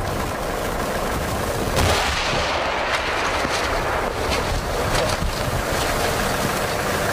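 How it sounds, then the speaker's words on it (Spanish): Police destroy seized handmade fireworks in Guayaquil, a dense crackling barrage of repeated bangs and pops, loud and sustained over a wash of noise. "Por varios minutos se siguieron escuchando los sonidos de las decenas de camaretas"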